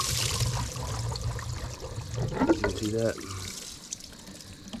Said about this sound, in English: As you can see, a little bit of water's coming out.